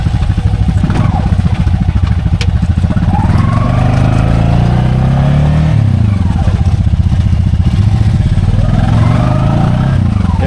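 An ATV engine revs hard and continuously, rising and falling, as it climbs a clay swamp bank while mudding, loud and close throughout with clattering mixed in.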